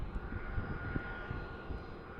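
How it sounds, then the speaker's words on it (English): A Cessna Citation M2 jet doing touch-and-goes makes a faint, steady, distant engine drone. "This M2's been doing a lot of touch and goes, testing out this citation."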